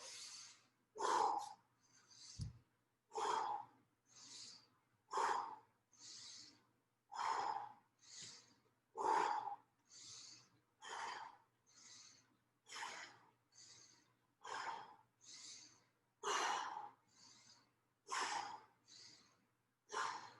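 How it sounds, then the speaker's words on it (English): Deep breathing during an exercise workout, about fifteen big, evenly paced breaths that are loud and close, heard alone with no talking. "Keep up your easeful breathing. Nice big inhales and exhales."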